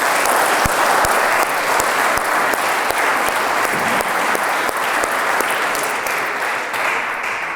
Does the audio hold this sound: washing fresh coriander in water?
no